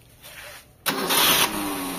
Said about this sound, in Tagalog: umandar na yung makina natin